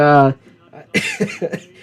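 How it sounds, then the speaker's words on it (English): A few short, rough coughs in quick succession follow a brief voiced sound, close to the microphone. "If you hear me cough, by the way, I apologize."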